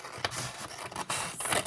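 Scissors snip through denim cut from a Levi's bag, a few quick crisp cuts with soft scraping of fabric, close and fairly quiet.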